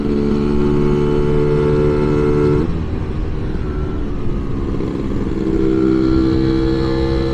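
A scooter engine revs steadily, its tone dropping briefly mid-way before climbing again as it accelerates, loud and close with no talking.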